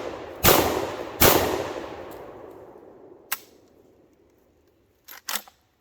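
A Lynx 12 shotgun fires low brass shells outdoors: two loud booming shots about a second apart with long decaying echoes, then fainter mechanical clicks and clacks.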